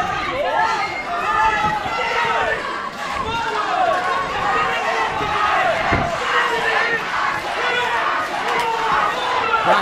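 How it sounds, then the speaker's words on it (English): Loud, steady crowd noise fills a kickboxing fight night at Dunsby Stadium, with shouting and cheering going on throughout and a commentator's voice running beneath it. "Crowd are going mad here at Dunsby Stadium."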